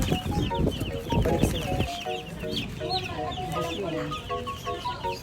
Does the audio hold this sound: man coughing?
no